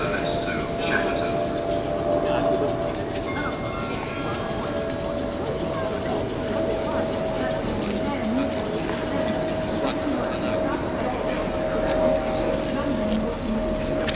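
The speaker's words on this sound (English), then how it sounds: "The train now approaching platform 11 is the 1721 Southwest train service to Shepparton." A train rumbles steadily at a Clapham Junction platform in the evening, with continuous wheel and track noise and a faint tonal hum, while voices speak throughout.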